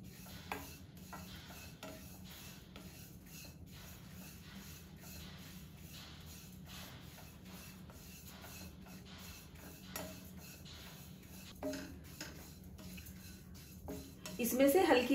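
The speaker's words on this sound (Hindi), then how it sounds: "अब हम सबसे पहले ओट्स डाल देंगे और गैस को सिम करेंगे और तब इसको भूनेंगे" Dry oats being roasted and stirred in a pan over a low flame: soft, repeated scrapes and light metallic clinks of a spoon against the pan, fairly quiet, ending in a louder clatter.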